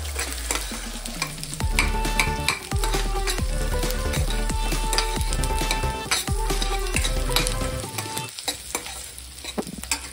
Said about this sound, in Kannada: ಈರುಳ್ಳಿ ಸ್ವಲ್ಪ ಫ್ರೈ ಆಗಬೇಕು, ಸ್ವಲ್ಪ ಮೆತ್ತಗಾಗಬೇಕು ಅಷ್ಟೇ